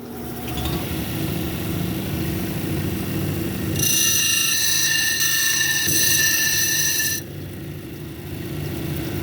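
A lapidary cabbing machine grinds a labradorite cabochon on grit wheels. A steady motor hum runs throughout, with a bright, harsh grinding burst lasting about three seconds in the middle.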